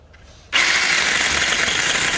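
A borrowed chainsaw, readied for cutting bamboo to build a chicken shed in Taiwan, starts up after a quiet moment and settles into a loud, continuous high-pitched engine roar.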